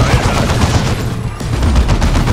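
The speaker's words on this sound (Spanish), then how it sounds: "Ahí va el disparo de plasma." Rapid gunfire and explosive plasma shots crackle loudly through a Warhammer 40k Dawn of War 2 battle, with dense, overlapping bursts that dip briefly midway and then resume.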